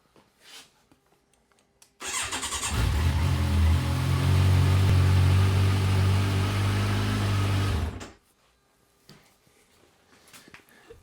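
A Kawasaki Versys 1000 motorcycle engine cranks and catches, then runs with a steady low rumble for about six seconds before cutting off, followed by quiet.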